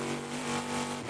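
A Chevrolet V8 race car engine with an aluminum block and titanium valves screams at high revs during a Petit Le Mans endurance race, a brief, dense, fairly quiet howl with no voices.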